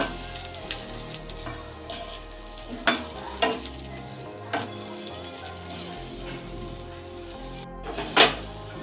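Garlic and onions frying in hot oil for a Bengali fish curry, a steady close crackling sizzle broken by a few sharp spatula clacks, with no voices.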